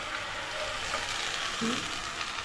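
Marinated prawns sizzle in a pan with browned onion, a loud, continuous frying hiss close up with a faint scrape partway through.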